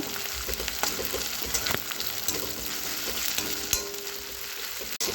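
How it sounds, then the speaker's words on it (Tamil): Ginger garlic paste and tomato sauté in oil with a dense, steady sizzle, punctuated by scraping strokes of a spoon stirring the pan and a sharp knock near the end. "இப்போ ஒரு ஸ்பூன் அளவுக்கு இஞ்சி பூண்டு பேஸ்ட்டு சேர்த்துட்டு நல்லா கலந்து விட்டு"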